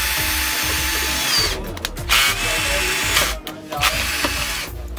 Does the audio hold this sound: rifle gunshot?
no